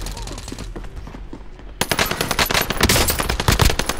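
Rapid automatic gunfire in a shooter video game, with sparse shots at first and then loud, dense bursts of firing that continue to the end.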